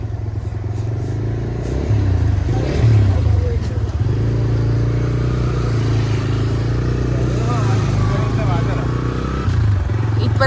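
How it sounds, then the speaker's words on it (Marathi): Traffic at a weekly village market in Konkan, with the continuous low rumble of cars and motorcycles passing nearby and engines revving, under a voice talking close to the microphone. "ट्रॅफिक बघा कसला आता बापरे"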